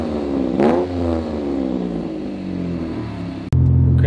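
A Mitsubishi 3000GT with a Quaife differential and a rebuilt transmission accelerates hard. The engine note climbs steadily, then a sharp gear change breaks it near the end, followed by a lower, loud engine drone.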